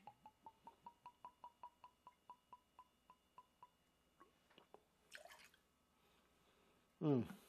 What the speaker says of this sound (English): we're going to add just a 1/2 ounce of our Green Chartreuse